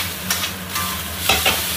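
Beef and shrimp stir-frying in a hot wok with raw cauliflower, a steady loud sizzle broken by a few scraping stirs of the spatula, no voices.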